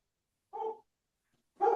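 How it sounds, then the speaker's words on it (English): A dog gives two short barks a moment apart, fairly faint and alone in an otherwise quiet room. "there's a dog and it's barking"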